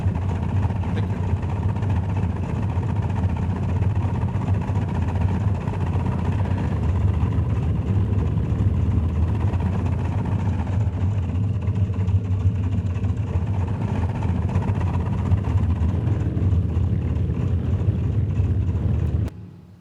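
Piston engines of a Boeing 314 flying boat reproduced in a flight simulator, a steady, loud low rumble droning evenly throughout and cutting off abruptly at the end.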